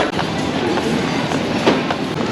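A train rumbles loudly through an underground station in Sweden, a steady, close roar of wheels and carriages with faint rhythmic clatter throughout.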